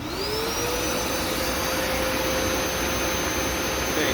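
A Hoover Smartwash carpet cleaner runs in dry-only mode: a loud, steady suction roar with a motor whine that climbs in pitch as it spins up, then holds constant with nothing else heard.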